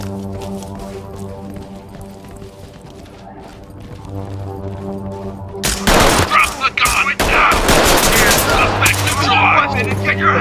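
Gunfire erupts in the tactical shooter Ready Or Not during a SWAT raid on a luxury hotel: after a few seconds of quiet ambience, loud rapid bursts of shots crack out close by, in dense clustered volleys.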